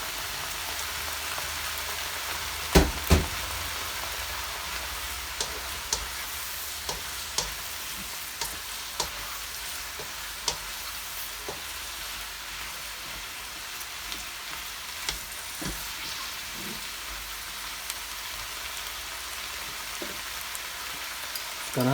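Broccoli and white mushrooms stir-fry in a hot pan, giving a continuous close sizzle with scattered sharp pops and crackles throughout, no voices.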